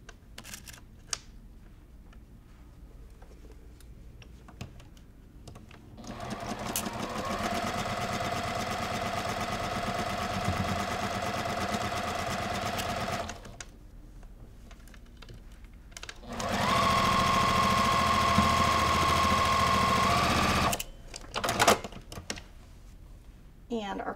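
A sewing machine stitches pumpkin quilt block pieces in two steady whirring runs, each several seconds long and separated by a short pause, with quieter handling noises before and after.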